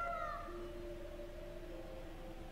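Cat meowing in the video game Tales of Berseria, one drawn-out wavering meow that slowly fades, fairly faint, with no speech.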